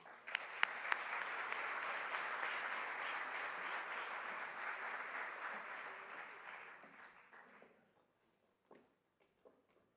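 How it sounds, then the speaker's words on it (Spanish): Audience applause at a forum on machine learning in education: a full, steady round of clapping from a seated crowd fills most of the clip, then fades out, leaving a few isolated claps and near silence. "y vamos a darle un fuerte aplauso."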